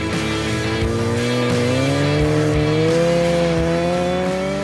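A turbocharged motorcycle on a speed run at the Bonneville salt flats, its engine droning loud and continuous with a steadily rising pitch as it accelerates, close and unbroken by talk.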